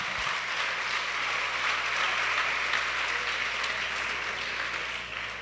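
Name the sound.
applause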